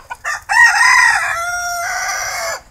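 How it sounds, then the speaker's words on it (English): A rooster lets out a single long crow at dawn, loud and close, after a couple of short clucks at the start. "The roosters crow at dawn here at the Flower Farm Inn"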